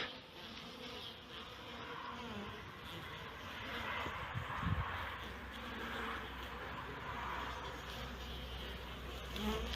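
Honeybees hum and buzz steadily at hives during outdoor feeding with diluted honey on a cold February day, a dense continuous drone at moderate distance with no talk.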